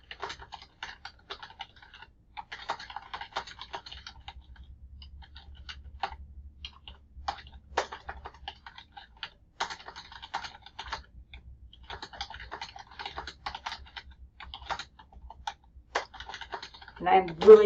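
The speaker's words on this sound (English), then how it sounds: "I'm really typing a lot here" Bursts of quick keyboard typing come in clusters with short pauses between, soft and close, with a brief voice at the very end.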